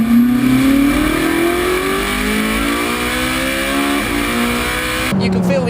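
A Ferrari 458 Speciale engine revs hard and climbs steadily in pitch, a loud close wail that cuts off near the end.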